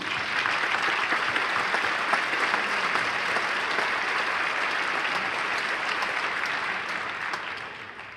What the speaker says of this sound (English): So another big round of applause for that great speech.